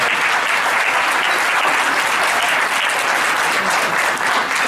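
An audience applauds at a social justice education event, a dense, steady wash of clapping that holds without a break, loud and close.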